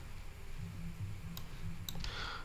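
A handful of crisp computer mouse clicks land close by on a Windows 11 PC, two or three sharp isolated taps over a low room hum.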